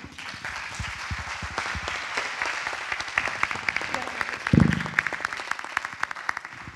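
A crowd applauds steadily for several seconds, dense clapping that swells in the middle before tapering off.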